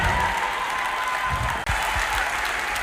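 Audience applause at a Kikuyu-language celebration as a guest returns to their seat: steady, dense clapping from a crowd that fills the whole stretch, with one brief cut partway through.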